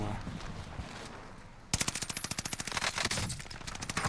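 Automatic gunfire from the game Call of Duty Warzone Pacific, Caldera map: a quiet stretch of game ambience gives way to a loud, sustained burst of rapid shots that keeps firing without a break.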